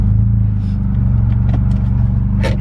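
A car passes on a road in a quiet secluded spot, its low engine rumble and tire noise strong and close, swelling and fading slightly as it goes by.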